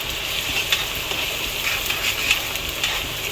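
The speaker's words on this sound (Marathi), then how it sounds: "कांदा चांगला फ्राय करून घ्यायचा आहे लाल करून घ्यायचा आहे" Chopped onion frying in hot oil in a pan for pav bhaji gives a steady, close sizzling hiss with small crackling pops, heard alone without voices.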